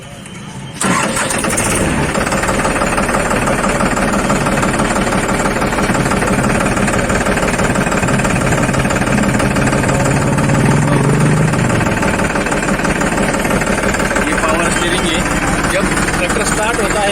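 A Powertrac Euro 47 tractor engine cranks and catches abruptly, then settles into a loud, steady, knocking idle close by, with some talking over it.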